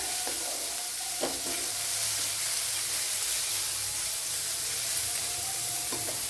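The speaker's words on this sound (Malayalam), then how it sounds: "നല്ലപോലെ ഒന്ന് വഴറ്റിയെടുക്കാം" Ingredients for a Kerala-style tapioca dish sizzle and get stirred in a pan, with a steady frying hiss and a few sharp scraping clinks of the spoon against the pan.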